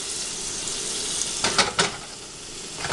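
Butter sizzling in a frying pan for eggy in a basket, a steady soft hiss and crackle throughout, with two brief louder bursts near the middle, no talking.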